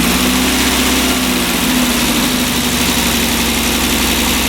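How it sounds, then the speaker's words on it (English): A 1968 MGC engine fitted with twin SU HS6 carburettors running steadily at about 1500 RPM, a loud, close, continuous drone with a smooth hum and no voices over it. "next what it says to do is run the engine up to 1500 RPM"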